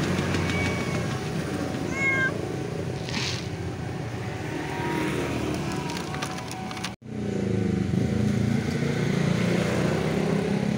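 A cat meows a few times on a sidewalk beside railway tracks, the short cries rising over a constant hum of passing motor traffic, with a brief dropout partway through.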